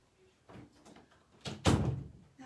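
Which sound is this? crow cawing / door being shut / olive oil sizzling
door being shut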